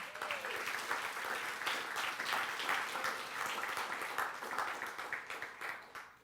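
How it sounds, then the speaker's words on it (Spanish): A church congregation applauds during a Spanish-language worship service, a steady wash of many hands clapping, moderately distant and fairly soft, continuing throughout. "¿Por qué no le dan un aplauso al Señor?"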